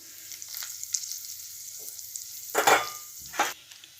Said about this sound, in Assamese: ইয়াত মই তেলত মিঠি গুটি দিছোঁ। লগতে শুকান জলকীয়া 4টা দি দিছোঁ।